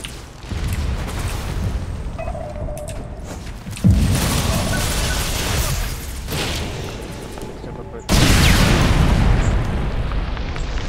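Gunfire in a Tom Clancy's video game, loud booming shots with abrupt sharp onsets around the fourth and eighth seconds, followed by sustained noisy rumble while players talk excitedly.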